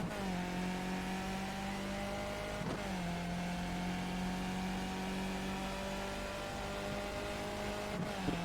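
Skip Barber race car engines in iRacing at Mid-Ohio, a loud, steady engine drone near the listener that drops in pitch at each of three gear shifts and then climbs again.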